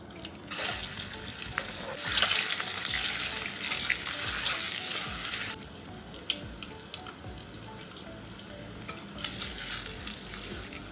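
Eggs fry in a pan with chili powder, making a loud, rushing sizzle that swells, then drops to a quieter crackle with a few scrapes before rising again. No one speaks.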